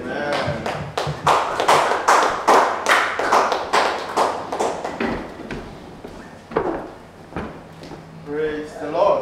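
A church congregation claps together at a thanksgiving and dedication service: dense, rhythmic claps that are loud and close for several seconds, then thin out, with voices speaking under and after them.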